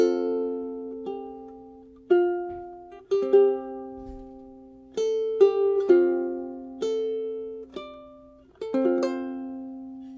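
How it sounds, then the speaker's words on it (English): Ukulele played fingerstyle, one bar of a lullaby picked very slowly: clear single plucked notes and soft chords ringing out one after another with gaps between, close and quiet, no voices. "So putting this bar together very slowly would sound like this."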